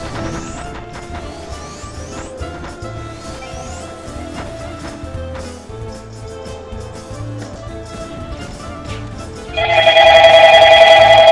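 A telephone bell rings loudly near the end, bursting in over a busy stretch of in-game clashing and crashing from a video game.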